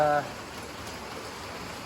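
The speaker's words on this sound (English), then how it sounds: "my original plan was to give you a nice view of the rain while we're talking." Rain pours down outside a shop as a steady, even wash of hiss, after a brief tonal sound at the very start.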